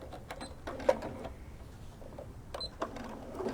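Bernina sewing machine with a walking foot stitching fabric for a bench pillow cover, a soft rapid mechanical whir in short bursts that start and stop, close and fairly quiet.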